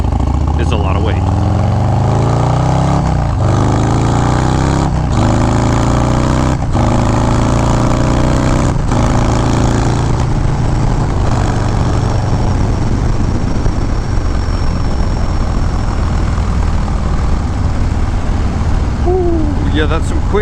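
A 2019 Harley-Davidson Street Bob with a Stage 4 engine revs hard through quick upshifts, the roar dropping briefly at each of several rapid gear changes before settling into a steady, loud drone.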